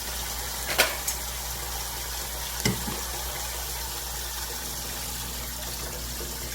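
Tap water runs steadily into a sink while perilla leaves are rinsed one by one in a home kitchen, a continuous moderate gush with a couple of brief splashes and clicks near the start.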